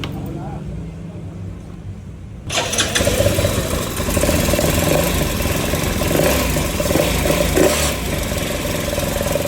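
A Yamaha Mio M3 motorcycle engine, chrome-bored and ported with a stock exhaust pipe, starts up in a garage after a quiet moment, then runs loud and steady with rough revving, close by.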